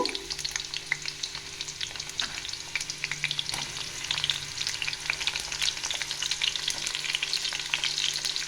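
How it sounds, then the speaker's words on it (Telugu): Chopped onion and green chilli sizzle steadily in hot oil for a ridge gourd and moong dal curry, a dense, close crackle with occasional stirring and no voices. "ఈ విధంగా ఆయిల్ వేడయ్యాక మనం కట్ చేసుకున్న ఉల్లిపాయ, పచ్చిమిర్చి వేసుకున్నాము"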